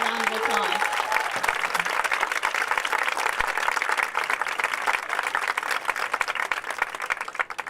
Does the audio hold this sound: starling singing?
no